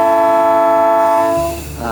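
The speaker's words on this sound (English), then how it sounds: "Just heard a train whistle." A train whistle sounds a steady, loud multi-tone blast near a rail-trail trailhead in Reedsburg, Sauk County, Wisconsin, holding for over a second before fading out with no talk.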